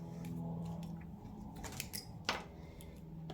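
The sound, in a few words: scissors fussy cutting paper words for a card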